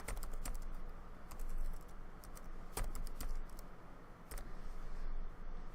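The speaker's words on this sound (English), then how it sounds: "So I just type in that spot as agreed." Keys clatter on a computer keyboard in a quiet room, a few sharp clicks standing out above a steady low background hum; no one speaks.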